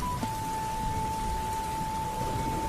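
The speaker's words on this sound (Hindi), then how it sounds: "रामू आसमान की तरफ देखकर बोला, लगता है आज बारिश मेरी परीक्षा ले रही है।" Steady monsoon rain falls over a village, an even, unbroken hiss of drops lasting throughout with no voices.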